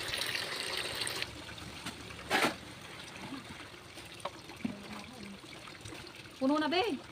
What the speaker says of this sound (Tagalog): Ayun na, ang ulan!